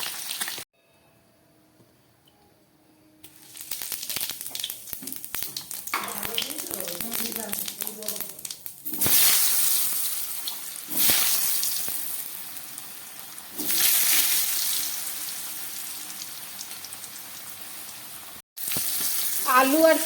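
Potatoes and onions fry together in hot oil, a loud hissing sizzle that surges in several bursts as they are stirred, with brief near-silent gaps, one at the start and one near the end.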